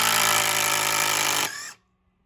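A Ryobi impact driver hammers a screw in, a loud continuous rapid rattling burst for about a second and a half that winds down abruptly into silence.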